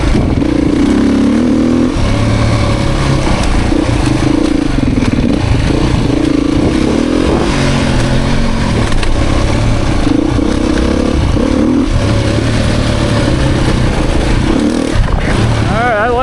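A 2023 Beta Xtrainer dirt bike engine drones and revs steadily up close while riding through cross-rutted track, with clattering and scraping over the surface; a voice briefly speaks near the end.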